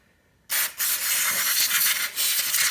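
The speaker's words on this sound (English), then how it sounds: "So what we do is we get carb cleaner" Carb cleaner sprayed from an aerosol can onto a 50cc motocross bike, a loud close hiss that starts abruptly after a moment of quiet and runs on with a couple of brief dips.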